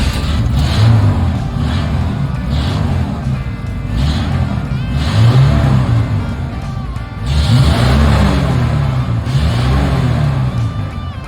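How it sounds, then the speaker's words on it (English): A 1976 Chevrolet Nova V8 runs with a newly installed exhaust, a loud, close, deep chugging idle with repeated revs swelling and fading throughout. "let's do a start with the new exhaust on."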